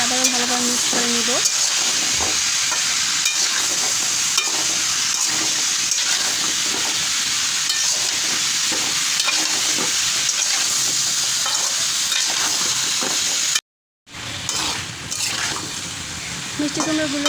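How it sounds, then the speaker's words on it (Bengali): Pumpkin pieces with salt, cumin powder and turmeric are stirred in a hot pan, giving a steady sizzle with spoon scrapes that breaks off briefly near the end, then resumes more quietly. "এখন সব উপকরণগুলোকে আমি আবারও ভালোভাবে মিক্স করে নিব।"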